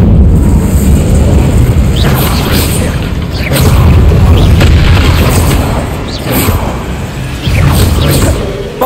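Spell combat in the Hogwarts Legacy video game, an Incendio fire spell cast among others: a loud, continuous stream of booming blasts and crashing impacts with low rumble throughout, several sharper bursts standing out.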